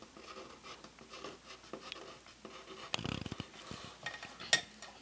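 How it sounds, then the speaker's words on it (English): Pen or marker writing a name on a brushbot robot kit box, soft scratchy strokes near and fairly quiet, with a burst of rustling and handling clatter midway and a sharp tap near the end. "first of all, you write your name on your kit."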